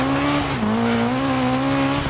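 Ford RS rally car in the EA WRC game, its engine droning loud and steady with a pitch dip and recovery midway, tire noise and gravel hiss layered over it, no talking.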